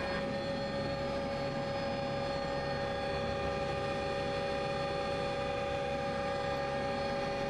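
An air ambulance helicopter in flight gives steady, droning rotor and engine noise with constant tonal hum, loud and continuous throughout, no voices.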